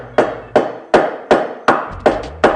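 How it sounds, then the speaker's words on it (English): Hammer blows on a silver ring made from scrap silver, struck against a steel block: seven sharp, evenly spaced metallic strikes ringing out close and loud with no talk. "I'm going to dry it off and go back to hammering."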